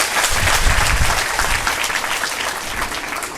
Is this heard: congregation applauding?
yes